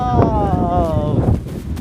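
Strong wind on a boat buffets the microphone in a loud, roaring rush while a voice talks excitedly over it.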